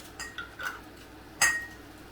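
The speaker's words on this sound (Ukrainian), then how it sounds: "Баночки я буду складати на деко, яке застелила фольгою." Glass jars of eggplant caviar are set down on a foil-lined baking tray: a few soft taps, then one sharp, ringing clink near the end, close and fairly quiet.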